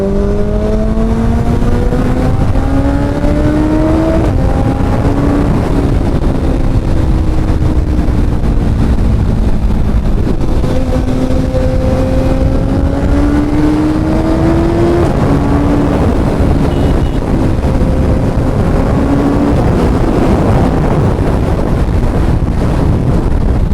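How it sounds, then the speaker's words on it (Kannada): A Suzuki Hayabusa motorcycle fitted with an M4 exhaust revs loudly and close, its engine note rising and falling through repeated throttle blips over steady wind noise. "ಲೌಡಾಗಿದೆ ಎಕ್ಸಾಸ್ಟು."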